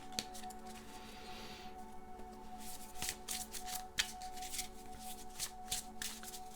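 Tarot cards being shuffled and drawn from a deck, a soft, rapid riffling and rustling that comes in bursts, close but quiet over a faint steady hum, with no talking.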